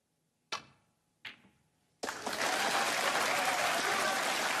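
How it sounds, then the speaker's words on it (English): A snooker crowd at the 2017 Scottish Open semi-final bursts into loud sustained applause and cheering for a potted ball, after two sharp isolated knocks. "listen to the cheer he got for knocking that one in"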